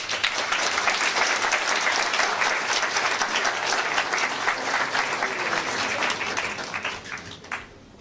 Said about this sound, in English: let's have a round of applause for Dr.